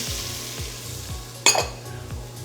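Diced celery and carrots fry in pancetta and veal drippings with a steady, close sizzle, while a utensil stirs through them in regular scraping strokes and one sharp clatter lands near the middle.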